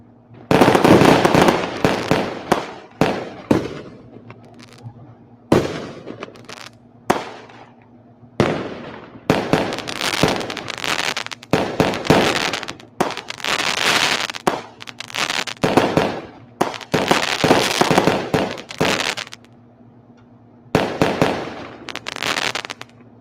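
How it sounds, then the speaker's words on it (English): Fireworks exploding at an Independence Day celebration, a long run of loud sharp bursts and crackling volleys, some clustered in rapid barrages, with brief quiet gaps between them and no talking. "So the best thing I can do is give you fireworks."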